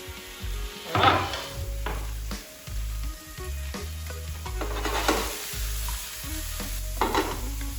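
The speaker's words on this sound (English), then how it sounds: "So I've got that fry, keep stirring it regularly" Chopped vegetables for a TVP bolognaise sizzle and fry in a pan while a utensil stirs and scrapes through them repeatedly, with louder stirring bursts over a steady close hiss and no talk.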